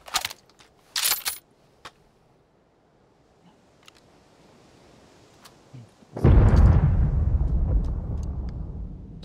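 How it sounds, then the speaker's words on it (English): Explosion in PUBG on the Sanhok map: a deep, loud blast at about six seconds with a rumbling tail that lingers for several seconds, preceded by quiet footsteps, handling clicks and a couple of short metallic jangles. "To znelo výbušne."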